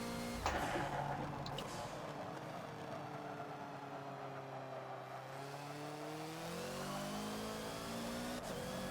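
Hoonigan Ford Focus engine revving on the Bugatti Circuit in Forza, steady loud engine drone with rising and falling pitch sweeps as the throttle opens and the car accelerates through gears, continuous throughout without speech.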